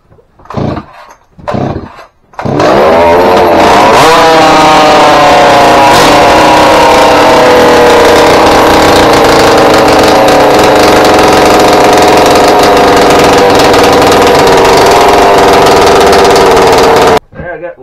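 A modified chainsaw with an opened-up exhaust port and muffler starts after a few pulls, then runs loud and steady at high revs, a buzzing whine that holds before cutting off abruptly.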